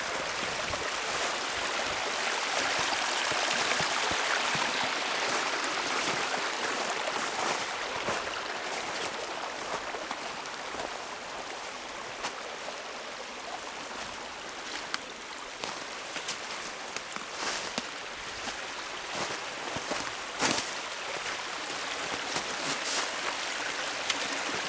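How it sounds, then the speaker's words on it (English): Water from an overflowing stream runs along a flooded woodland trail near wetlands, a steady rushing and gurgling flow heard up close, with scattered splashes and crackles over the continuous wash. "Look at this water flowing on the trail."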